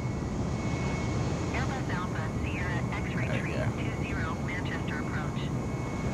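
Airbus A320 jet climbing after takeoff in Microsoft Flight Simulator, a steady loud engine roar with a high whine, while someone talks over it throughout.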